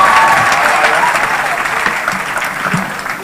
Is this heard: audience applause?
yes